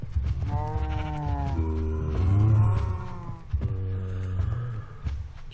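Minecraft cow mooing in the game, several drawn-out harmonic lowing calls close and fairly loud, one after another with short pauses, nobody speaking.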